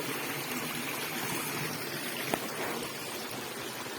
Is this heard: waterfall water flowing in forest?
yes